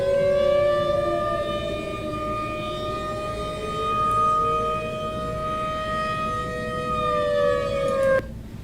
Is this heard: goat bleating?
no